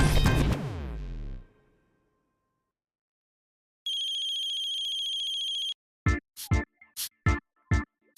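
An outgoing call on a telephone: a steady ringback tone runs for about two seconds, then a string of short, loud electronic ring bursts follows, after a fading crash at the start.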